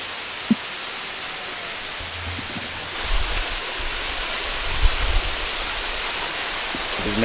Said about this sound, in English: We made it here to the waterfall.